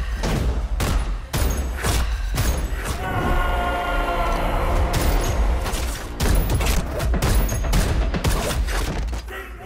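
Gunfire rings out in an action film gunfight as rapid, sharp shots in irregular bursts over a loud, dense rumble of score and effects.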